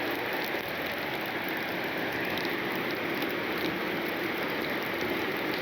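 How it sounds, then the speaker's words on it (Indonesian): Heavy rain pours down steadily outdoors on a camping trip, a dense unbroken hiss of falling water at a constant loud level with no voices. "Kita tunggu hujan reda."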